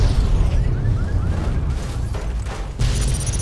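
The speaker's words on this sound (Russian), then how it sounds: "Очередную боеголовку взрываем." Warhead detonation in Fallout: New Vegas, Lonesome Road, heard as a loud, sustained rumbling blast with crackling debris that carries on throughout, then swells again near the end.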